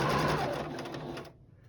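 A sewing machine stitches fabric in one short, fast, steady run of whirring needle strokes, close and clear, then stops abruptly.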